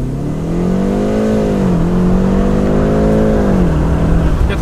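A car engine reversing in extreme cold, revving with a loud, close, sustained whine that climbs, dips and climbs again before easing off. No one speaks.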